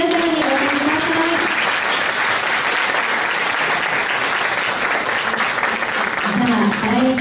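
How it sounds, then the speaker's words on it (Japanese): Sustained applause from an audience at a Japanese floral design competition, honoring the competing florists. Dense and steady, with voices speaking over it at the start and end. "どうぞ今一度大きな拍手を皆様にお願いします。"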